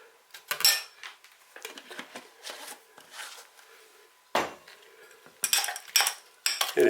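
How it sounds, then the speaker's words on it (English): A utensil stirring taco filling in a dish, with scattered metallic clinks and scrapes against the bowl and irregular clatter, close by and alone without talk. "And you just give this a stir."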